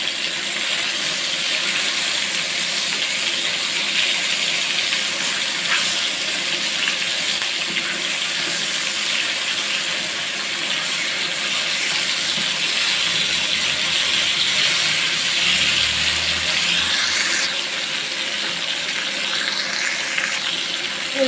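Pieces of fish fry in hot oil in a wok, a loud, continuous close-up sizzle that holds steady with small shifts in intensity.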